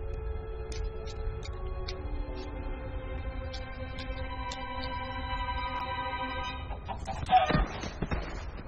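Chickens cluck in the Minecraft: Story Mode game, a string of short, repeated clucks over a steady background of tones, then a louder burst of squawking near the end, with no talk.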